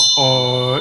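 A small Tibetan ritual bell is struck once during Ngondro refuge and prostration practice, ringing with a clear sustained shimmering tone that fades slowly over chanting.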